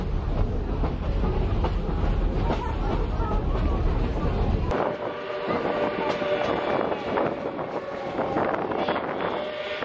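Great Smoky Mountains Railroad steam train ride near the old Almond depot. The passenger car rumbles low and steady with wind buffeting the microphone, then the heavy rumble drops out and a lighter rattle and clatter continue.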